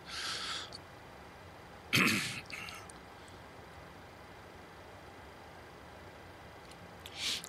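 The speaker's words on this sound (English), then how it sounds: "Sorry about that, a little bit of cough today" A man coughs and clears his throat in a couple of short bursts, close and fairly faint, against the steady hiss of a Boeing 737 BBJ flight deck at cruise altitude.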